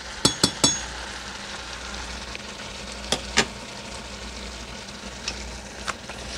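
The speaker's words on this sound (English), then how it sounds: "So I'm just going to get this in the oil and start cooking it until it's soft." Vegetables for homemade spaghetti sauce frying in oil in a pan: a steady soft sizzle runs throughout, broken by a few sharp clinks of a utensil against the pan, with no talking.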